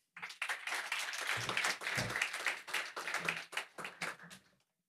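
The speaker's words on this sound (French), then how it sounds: "On peut l'applaudir." An audience at a sustainability breakfast event applauds a speaker named Sophie after her talk. Steady, dense clapping lasts about four and a half seconds before tapering off.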